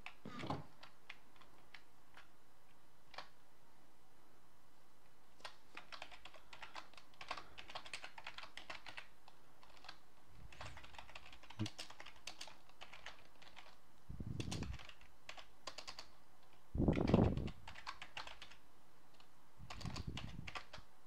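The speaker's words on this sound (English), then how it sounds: "Just typing a book right now." Keys clatter on a computer keyboard in quick, uneven bursts, fairly close and quiet, with a few soft low thumps and brief background noises between runs of typing.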